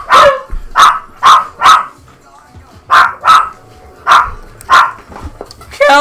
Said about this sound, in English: I hope you could hear it over the dogs barking